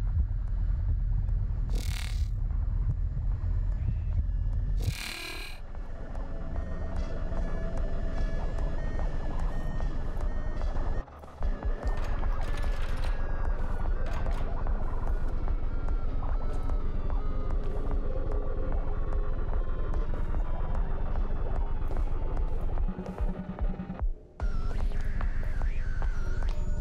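A constant high whine runs through the room-search scene of the horror video game Observer, layered over a dense rumbling ambience with steady tones and brief dropouts, loud and unbroken throughout.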